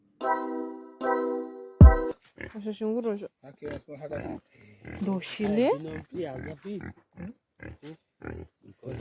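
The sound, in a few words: pig grunting and oinking in a mopani-pole kraal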